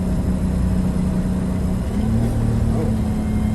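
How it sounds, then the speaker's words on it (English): A car engine hums steadily as it crests a hill on a 100-degree day, then its pitch shifts partway through as the transmission downshifts, a moderate, continuous drone heard from inside the car. "I got a downshift there."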